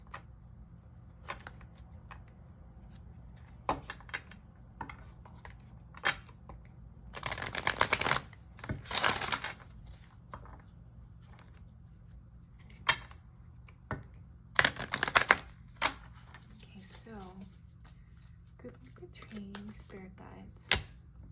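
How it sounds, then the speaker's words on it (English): Several oracle card decks are shuffled by hand, brief riffling bursts and soft card taps standing out against a quiet room, with a few isolated clicks between the shuffles. "I'm going to shuffle a few oracle decks and lay the cards out here"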